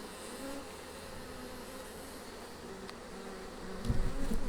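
Honeybees hum in a steady, continuous drone during an open hive inspection, close to the ear and alone, with a brief louder rustle near the end.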